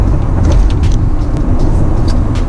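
A Honda City Hatchback RS accelerating hard, heard from inside as a loud, continuous low engine and road roar with no break.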